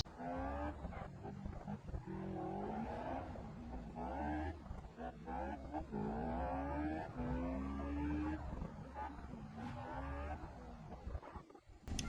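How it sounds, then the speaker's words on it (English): A Civetta Bolide sports car driven in BeamNG, its engine droning steadily with rising and falling pitch sweeps as it accelerates and shifts, loud and continuous throughout. "Alright, so I'm going to drive over there and hopefully not wreck it"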